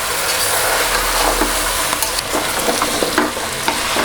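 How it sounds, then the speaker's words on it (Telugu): Vegetables and masala stirred in a pressure cooker, with loud close sizzling under repeated scraping strokes of a spoon against the pot, steady and continuous with no talking. "ఆ మసాలా అంతా పట్టేటట్టు ముక్కలకి బాగా కలుపుకోవాలి."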